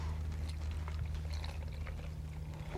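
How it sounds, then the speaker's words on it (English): Warm soapy water pours into a bottle with a soft, steady splashing trickle over a low background hum, quiet and close. "Pour this in here."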